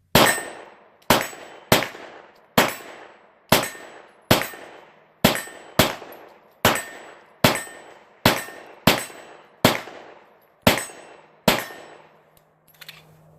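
Rapid, steady string of Hudson H9 pistol shots ringing off a steel target outdoors, about fifteen sharp cracks, each with a metallic clang and short decay, close and loud.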